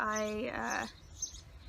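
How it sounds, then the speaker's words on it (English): Small birds chirp and tweet nearby indoors, a bright warbling call that rises and then breaks into fainter scattered chirps, with no voices over it. "Excuse the birds."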